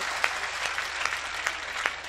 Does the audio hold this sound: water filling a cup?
no